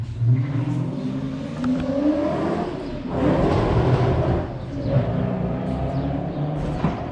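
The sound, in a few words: Mustang car speeding past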